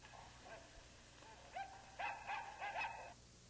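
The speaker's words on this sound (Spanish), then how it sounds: "En 1940 se le adjuntó a Electro un fiel perro llamado Sparko" A 1940 robot dog built as a companion to a mechanical man gives a few faint, yappy barks and whimpering yips in quick succession over a low background hum.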